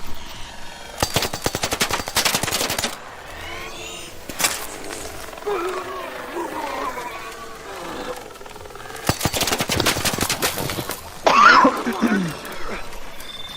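Bursts of rapid video game gunfire, two long automatic volleys and shorter shots, mixed with someone talking over game sounds during a live stream in Japan.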